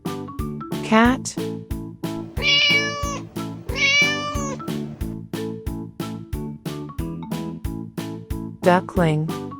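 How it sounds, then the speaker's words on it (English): Several cat meows ring out, short and clear, spaced across the clip above a steady bouncy musical beat. "cat,"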